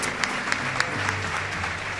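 Church congregation applauding during a worship service, a dense, steady wash of clapping with a few louder individual claps standing out near the start and a faint voice beneath.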